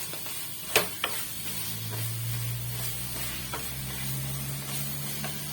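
Chili powder being stirred into crab curry in a frying pan, a steady low sizzle with a couple of sharp spoon clinks near the start and soft scraping throughout.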